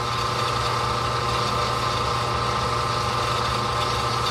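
Metal stock being cut into 1-inch pieces with a saw for smooth vise jaws, heard as a steady, loud mechanical drone with a constant hum running without break throughout.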